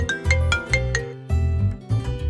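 A mobile phone ringtone plays a bright repeating melodic chime in short rhythmic bursts, loud and close, with no talking over it.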